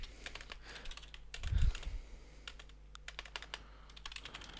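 Quick clicking keystrokes on a computer keyboard while HTML code is typed, rapid irregular taps close to the mic with a brief low thump midway and a faint steady hum beneath.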